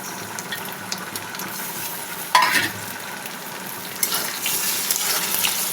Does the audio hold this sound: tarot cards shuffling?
no